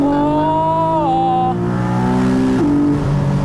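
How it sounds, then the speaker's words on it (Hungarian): Porsche engine revving on a downshift up to about 4000 rpm, a loud close-up rising and falling engine tone with a blip as the gear changes, steady mechanical drone throughout and no talking. "Ez volt a visszagangolás, 4000 repni."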